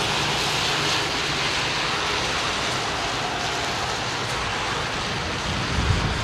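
An airliner landing on runway 27R at London Heathrow gives a loud, steady broadband jet roar that holds evenly throughout, with no voices.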